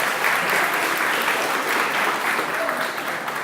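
An audience at a school promotion and awards ceremony applauds the residents, a continuous dense wash of clapping that stays even and full throughout.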